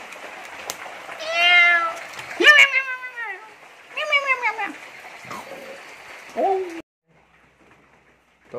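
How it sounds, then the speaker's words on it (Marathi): A frightened house cat meows several times in a rural kitchen, close and clear, with rising and falling wavering calls spaced over a few seconds before quiet. "मोठ्याची मांजर आहेत, मला बघून घाबरली बघा"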